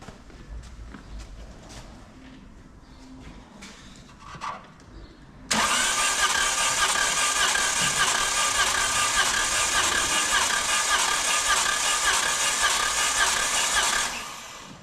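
A smoky Citroen C3 with a 1.2 PureTech engine is quiet at first, then abruptly catches and runs loudly and steadily for about nine seconds before fading off near the end.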